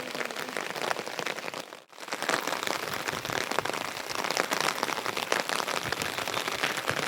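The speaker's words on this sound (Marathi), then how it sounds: "पाऊस जास्त आहे त्यामुळे चिखल झाले." Heavy rain pours onto a muddy farm field in rural Maharashtra during planting, a dense, steady close-up hiss that briefly dips near the start, then holds without speech.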